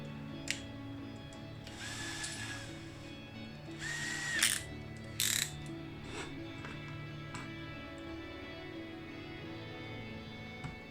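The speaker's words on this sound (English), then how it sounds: "what I want to do is drill down the centre of the post" A power drill whirs in a few short bursts, drilling down the centre of a post on a Volvo 480ES, rising and stopping between pauses against a quiet background hum.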